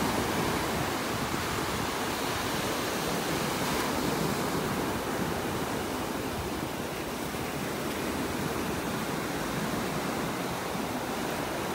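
Ocean waves wash onto the beach at North Naples, Florida, with continuous broadband surf roar, steady and close, with no talking.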